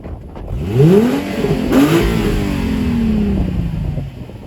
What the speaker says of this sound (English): Here's what the car sounds like stock.